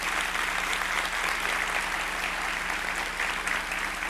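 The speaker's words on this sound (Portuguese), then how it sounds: "Então ali, uma salva de palmas para eles." Church congregation applauding at a Sunday service, a dense steady wash of clapping from many hands, held at even volume throughout without voices.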